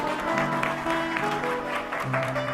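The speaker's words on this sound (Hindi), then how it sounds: "एक बार ताली बजा दीजिए।" An audience claps steadily and evenly throughout, a dense wash of hands at a Hindu religious discourse, with a voice talking faintly over the applause.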